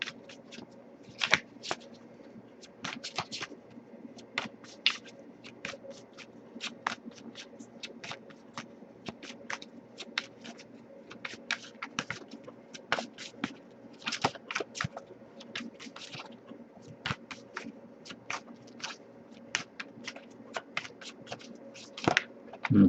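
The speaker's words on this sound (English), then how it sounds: "So I'm just going to shuffle for a bit here and see if there's any unspoken messages from you to them." Tarot cards are shuffled by hand in a quiet room, a continuous run of soft, rapid riffling snaps and flutters, close up and steady, with no talking.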